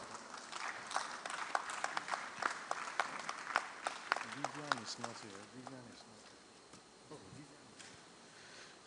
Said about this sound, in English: Please, a round of applause for her as she comes up.